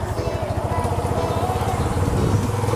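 A motorcycle engine runs steadily close by, its even pulsing rumble held at a moderate throttle for the whole stretch with no sharp rev spikes.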